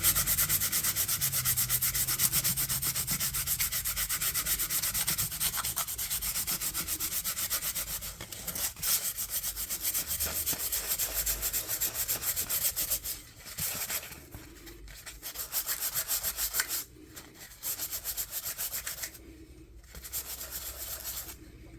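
Continuous abrasive scraping of 180 grit sandpaper on wood, steady at first and then breaking into short rhythmic strokes with brief pauses, close and fairly loud with no talking.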